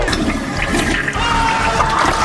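A toilet flushes loudly and close up after a LEGO figure rides a tall spinning slide into it. A steady rush of swirling water fills the whole stretch.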